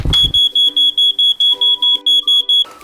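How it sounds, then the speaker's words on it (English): Smoke alarm beeping loudly and close by in a steady run of about a dozen short, evenly spaced high-pitched tones, with no speech. "The sound of 3 loud beeps means smoke or fire."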